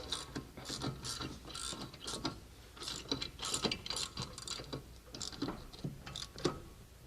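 A ratchet tightens the front brake caliper bolts on a Saab C900, giving close, rapid bursts of clicking in short repeated strokes with brief pauses between them.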